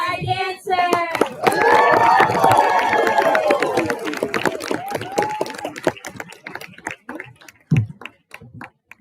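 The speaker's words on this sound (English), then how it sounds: "Now let's give a round of applause for our dancers." An audience at a live dance closing ceremony applauds the dancers. Dense clapping swells after a voice speaks, then thins into scattered claps.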